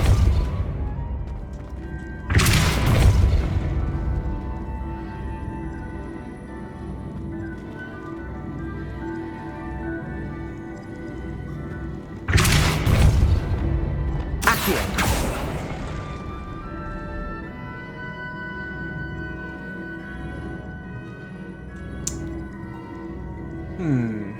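Spell blasts from the Depulso charm in the video game Hogwarts Legacy: three loud, booming bursts, the first around two seconds in and a close pair later, over a steady bed of game music and ambience.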